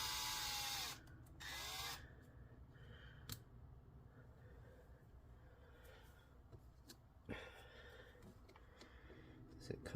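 A power drill whines loudly in short bursts near the start while working on a Lenovo Legion 5 17ARH05H laptop, followed by quieter scraping and handling noises with occasional clicks.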